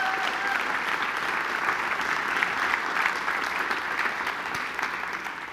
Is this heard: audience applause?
yes